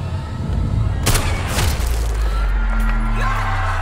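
A gunshot from the TV series Daredevil: Born Again cracks out sharply, followed by a second burst and a rumbling low tail, with dramatic music and effects filling the mix.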